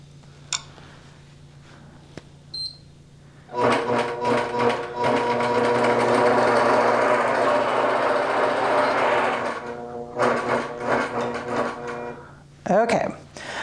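A domestic sewing machine runs in a steady whirring burst of stitching through fabric for several seconds, bracketed by short starts and stops with handling clicks, up close and loud.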